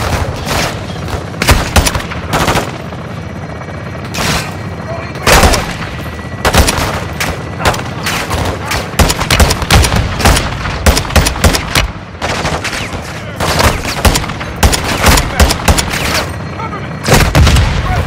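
Weapons fire during a military fire mission: repeated loud close gunshots and bursts of automatic fire with heavy booms, irregular volleys spread throughout amid battle noise.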